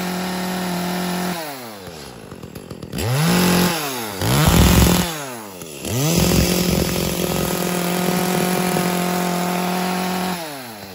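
An Echo 351 35cc chainsaw engine, a newer model with assisted start, runs steadily and alone, its pitch swooping up and down as the throttle is blipped several times before it settles to a smooth, even drone.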